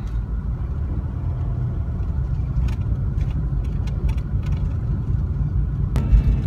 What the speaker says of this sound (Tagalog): Ito na po tayo sa highway. Medyo traffic lang po ng konti.